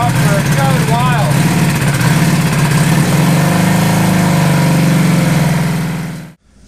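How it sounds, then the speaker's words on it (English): A Suzuki GS850 Scrambler motorcycle idles while warming up, a close, steady, deep burble with a slight rise in revs partway through, then it cuts off suddenly at the end. "The Scrambler has been warming up for quite some time"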